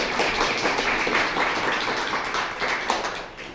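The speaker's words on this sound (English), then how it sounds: "let's just give them a round of applause and thank them for their work" An audience applauds performers at a flea circus show, with steady, dense clapping from many hands held at a fairly even level, mid-distance and continuous, with no talking over it.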